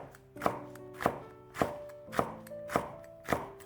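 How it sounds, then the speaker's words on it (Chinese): A knife slices a halved, deseeded green pepper into thin strips on a cutting board. Six crisp, evenly spaced chops land about every half second, each a sharp thunk with a short ringing tail, close and clear with no voices. "准备一个青椒，从中间对半切开，将里边的辣椒籽取出来，再改刀切成细丝"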